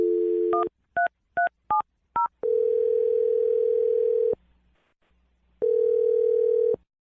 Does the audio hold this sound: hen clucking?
no